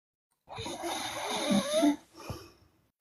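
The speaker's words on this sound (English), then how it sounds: "Oh my God, I think this person's snoring." A person snoring, one long rasping inhale lasting over a second followed by a shorter, softer breath, close and fairly loud, with no talk over it.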